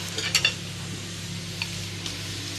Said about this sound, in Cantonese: 咁我哋而家開始就先咧煎咗啲豬扒先啦